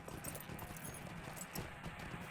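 A horse's hooves clip-clop in a quick, even rhythm during a ride in Lord of the Rings Online, heard faint and steady throughout.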